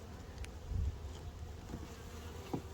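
Honeybees buzz softly around an open hive as a colony is being split, making a faint, steady hum with a few passing bees droning close by under light wind.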